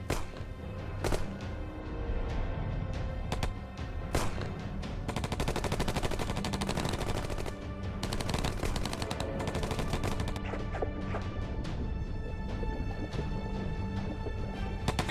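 Sustained machine gun fire in a WWII documentary, loud rattling bursts and heavy thuds repeating densely across the whole stretch with no speech.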